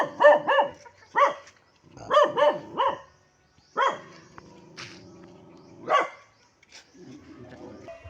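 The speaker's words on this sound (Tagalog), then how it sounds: "Galit yung aso kasi bihira lang siya makakita ng cute na tao siya guys." A dog barks angrily in short bursts, with several sharp barks close together and a few more spaced out, heard close against a low rumbling background along a rural road.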